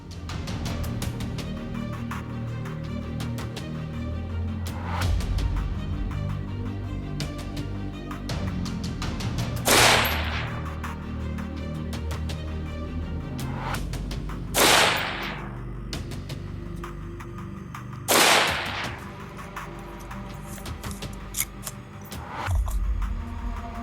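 AR-15 with a 16-inch Faxon 4150CMV SOCOM barrel firing 75 grain Hornady rounds, three sharp loud shots spaced about five seconds apart outdoors, over a steady background of wind and distant noise.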